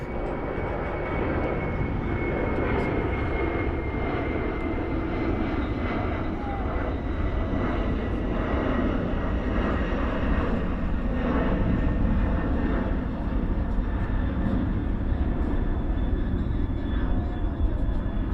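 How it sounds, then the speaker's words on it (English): Airliner engines roar steadily at DFW airport in the evening, older jets from the late 1970s or early 1980s, a loud continuous rumble filling the whole stretch with people talking over it. "These aircraft are from like the late 70s,"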